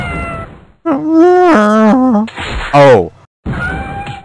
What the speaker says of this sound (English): I love my cat.